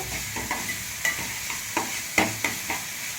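Onions frying with salt in a pan, a steady sizzle broken by regular spatula stirs and scrapes roughly twice a second, close and unaccompanied by speech.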